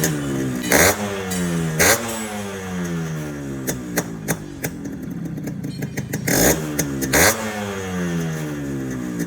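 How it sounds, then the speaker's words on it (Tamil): A Yamaha RX135 motorcycle, kept largely stock, revs hard close by. Its exhaust beat rises and falls through a series of sharp throttle blips, with steady idling between them and no talk. "இப்போ இந்த வண்டியோட பீட் சவுண்ட் கேட்கலாம் வாங்க."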